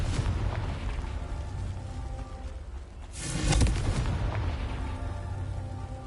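Confringo fire spell in the Hogwarts Legacy video game bursting into a booming explosion around the middle, a dense roaring blast over a continuous rumbling game soundscape.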